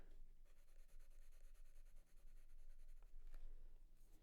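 A soft sanguine oil pastel rubs across sketchbook paper, a faint, continuous scratchy drawing sound with rhythmic strokes, close up and quiet, with no talking.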